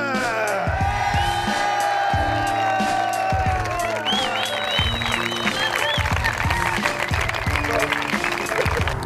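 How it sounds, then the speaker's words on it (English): Loud, sustained applause and cheering from an audience honouring canopy piloting champions at a Dubai skydiving swoop league meet, with whoops and an announcer's voice over the crowd throughout. "Give all your champions one big, more round of applause."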